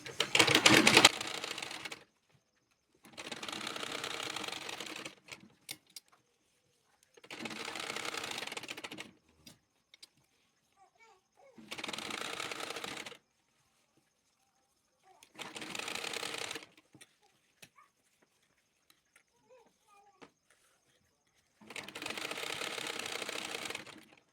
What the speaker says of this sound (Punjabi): ਫਿਰ ਆਪਾਂ ਸਿੱਧਾ ਕਰਕੇ ਇਹਦੇ ਉੱਤੇ ਇਸ ਤਰ੍ਹਾਂ ਸਿਉਣ ਲਾ ਲਾਂਗੇ